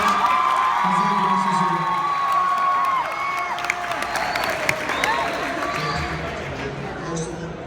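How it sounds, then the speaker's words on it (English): A school audience gives a round of applause, steady dense clapping mixed with crowd cheering and a few whoops, loud and sustained throughout, with voices shouting in the room. "give him a round of applause"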